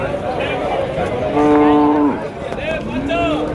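A large dairy cow at the Vaniyambadi cattle market gives a loud, drawn-out moo near the middle, with market background noise around it and a fainter lowing call toward the end.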